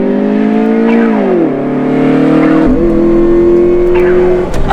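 A 1999 Honda Integra drives with a loud steady engine drone close by, the pitch dipping as it shifts or eases off, then settling into an even cruise with road rumble underneath.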